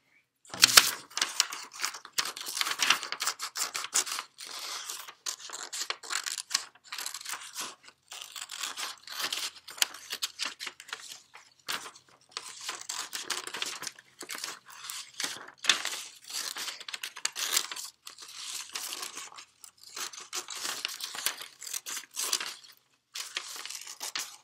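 Scissors cut a handprint out of scratch paper, a long, close series of crisp snips and rustles in irregular bursts with brief pauses, loud and clear without any talking.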